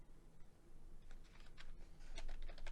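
Typing on a computer keyboard during a tabletop role-playing game session, a faint patter of irregular key clicks that grows a little busier toward the end, with low background room noise.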